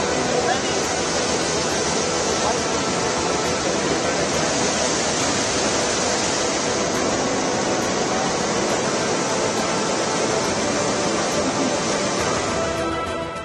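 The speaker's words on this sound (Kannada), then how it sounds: "ರುದ್ರಪ್ರಯಾಗ್ನಲ್ಲಿ ಪ್ರವಾಹಕ್ಕೆ ಅಲಕಾನಂದ ನದಿ ಉಕ್ಕಿ ಹರಿಯುತ್ತಿದೆ" Floodwater of the swollen Alaknanda river at Rudraprayag in Uttarakhand, during heavy monsoon rain, rushing in a loud, steady, dense roar that fills the whole stretch without a break.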